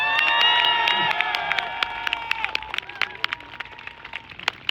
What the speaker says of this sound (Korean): 이때 박수 치는 겁니다